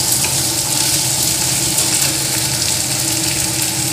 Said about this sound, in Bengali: এটাকে ভাজা ভাজা করে নিতে হবে